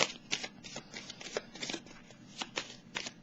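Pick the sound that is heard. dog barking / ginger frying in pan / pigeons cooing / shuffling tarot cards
shuffling tarot cards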